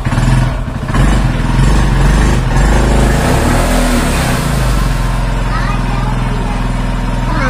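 A motorcycle engine idles and runs nearby, its rough putter continuing steadily under voices talking over it.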